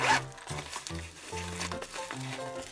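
A small shoulder bag's zipper is pulled open in several quick, rasping strokes, soft and very close, with brief pauses between the pulls and no speech.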